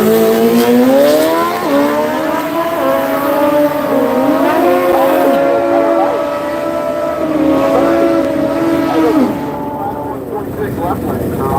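A Hayabusa and a Kawasaki motorcycle at a drag strip, Seattle International Raceway: loud, sustained engine drones rise and fall together, with a public-address voice over them.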